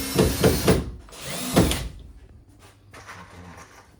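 A power drill drives screws to fasten drywall during pantry construction: two short whirring bursts, close and loud, followed by quieter handling noises.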